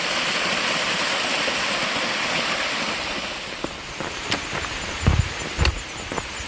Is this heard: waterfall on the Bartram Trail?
yes